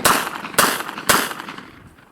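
Three loud, close gunshots from a Taurus Judge revolver firing defense ammunition, evenly spaced about half a second apart, each a sharp blast followed by a booming decay that fades out afterward.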